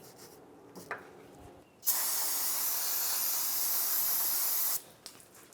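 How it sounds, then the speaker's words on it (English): A loud, steady hiss of parts cleaner sprayed for about three seconds onto steering parts of a 1994-2002 Dodge Ram 2500 truck, with a few faint scrapes from a wire brush before and after. "I'll use a wire brush and some parts cleaner."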